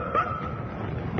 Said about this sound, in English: this mysterious yip-yip, like a fox terrier dog, a high-pitched yip-yip